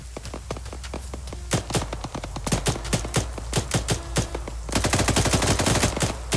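Rapid machine gun fire in the Arma 3 military game, dense bursts of loud cracking shots that thicken into a heavy continuous volley near the end, with a low rumble underneath.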